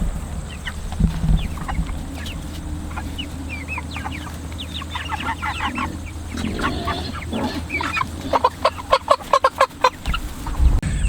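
Cornish cross chickens in a chicken tractor cluck and chatter over a low steady hum. The calls are scattered at first and grow into a busier, louder run of rapid clucks near the end.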